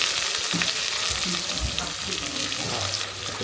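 Curry leaves, dried chili, crushed onion, green chili and garlic fry in oil as the base of a red chicken gravy, giving a steady close sizzle with faint stirring and no speech.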